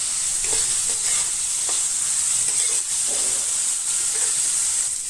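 Potatoes hit a pan of frying spices with Kashmiri chili powder, a loud steady hiss and crackle with light stirring clicks scattered through it.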